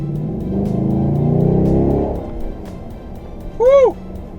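A Holden VF2 SSV Redline Commodore engine revs and pulls hard in the first couple of seconds, a strong rising drone that then eases off, followed by a short chirp of tyre squeal or whine near the end.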